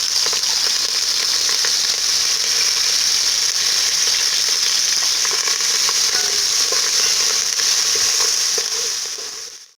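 Curry leaves crackle and sizzle loudly in hot oil, a dense continuous frying hiss with faint stirring scrapes, cutting off at the end, while making Karaikudi fish curry.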